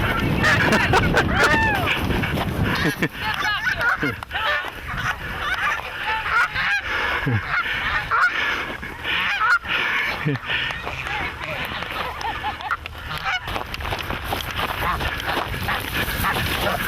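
A flock of wild geese honks repeatedly in overlapping, rough calls that carry on throughout, with a person talking at times over them.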